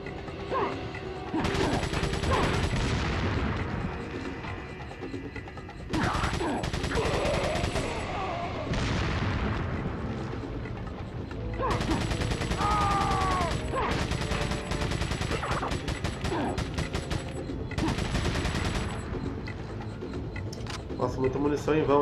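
Rapid bursts of gunfire from the video game Resident Evil 4, including machine-gun volleys, fill almost the whole stretch at steady loudness, broken by short gaps, while someone talks over the shooting.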